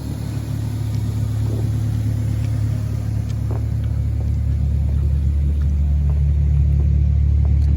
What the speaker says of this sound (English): Beautiful motor.